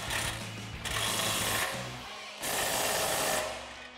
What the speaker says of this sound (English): That's once again your 19 millimeter swivel socket and a 19 millimeter wrench.